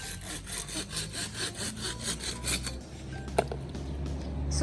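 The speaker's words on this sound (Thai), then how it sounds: "ป๊าป๊ากำลังเลื่อยไม้น่ะ" A hand saw rasps back and forth through wood in a steady rhythm of strokes, then stops, leaving a faint hum and a small knock.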